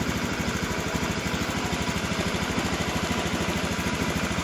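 A Honda Beat FI motorcycle engine runs close up at slightly raised revs, giving off a loud, steady, rapid pulsing throb with no pauses.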